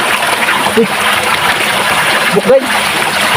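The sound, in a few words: water gushing from a spring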